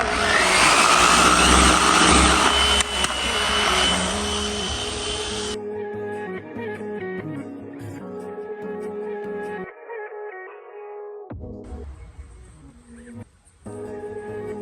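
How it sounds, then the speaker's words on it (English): A DA sander grinds body filler on an Audi A5 bumper, a loud steady whirring buzz for about five seconds that then stops, leaving tonal music. "220 to sand that bundle down with our DA and get ready to prime those bumpers"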